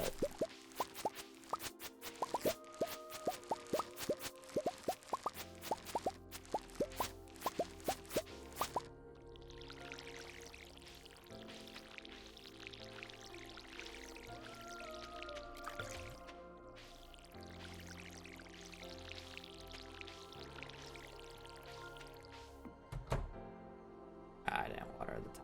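Video game watering can sounds splash over farm crops in a rapid series of short plops and pours, followed by a longer stretch of gentle watery streaming, faint under a voice.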